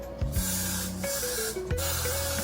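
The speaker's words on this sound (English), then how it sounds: "I have the Got To Be glue spray, and this is how I'm gonna adhere the wig" Got To Be glue spray misted onto wig lace in a couple of short hissing bursts, close and fairly loud, with background music tones running underneath.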